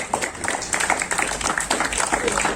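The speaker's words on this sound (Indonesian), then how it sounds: "Tepuk tangan semuanya." A class of students in a floor gymnastics lesson clapping together, a busy scattered patter of hands at moderate volume with irregular bursts, voices faintly mixed in.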